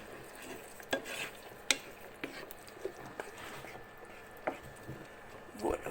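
A warm salad of flat green beans being tossed together in a bowl, with soft stirring and several sharp clinks of utensil against the dish spaced through the mix.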